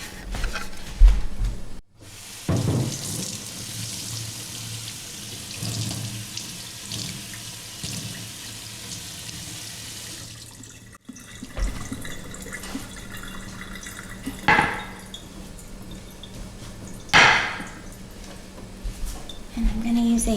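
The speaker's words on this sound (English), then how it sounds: "I'm going to rinse off my cutting board really quick" A kitchen tap runs steadily while a cutting board is rinsed beneath it, a close, continuous splashing rush lasting around nine seconds, then quieter drips, clunks and handling of the board as the water stops.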